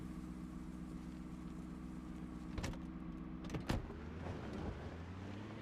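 A video game vehicle engine tows a heavy load of logs, giving a steady low droning hum with a few brief clicks and knocks partway through.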